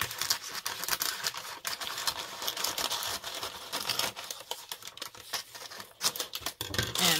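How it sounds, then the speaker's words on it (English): Scissors snip through a section of a large, crinkly paper roll at a desk, giving dense crackling and rustling with sharp cutting clicks throughout. "I'm just gonna go ahead and cut a section off here"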